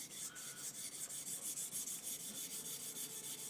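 Hand sanding a G10 knife handle, a steady close rasping rub with even back-and-forth strokes repeating throughout, fairly quiet and alone.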